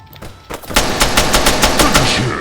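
Rapid automatic gunfire in the video game Arma 3, a steady close burst of repeated loud shots after a brief quieter lead-in.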